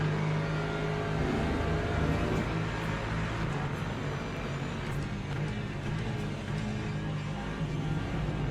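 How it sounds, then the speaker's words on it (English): Several LMP3 prototype race cars in Le Mans Ultimate approach with a steady, loud mid-pitched engine drone and rising whir, continuous throughout with no pauses. "Here come the LMP3s."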